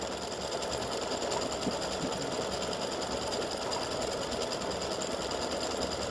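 An embroidery machine stitches free-standing lace earrings and a pendant with a fast, continuous mechanical chatter, steady and close with no pauses.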